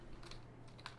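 Soft, quick keystrokes on a computer keyboard sound faintly in a brief burst of typing, heard close and alone during a game stream.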